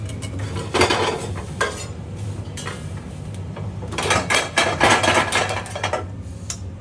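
Raw rice dry-roasts in a pan with curry leaves and rampe for dark-roasted Sri Lankan curry powder. A utensil scrapes and stirs it with a gritty, rustling shuffle in close, irregular bursts over a faint sizzle, with no talking.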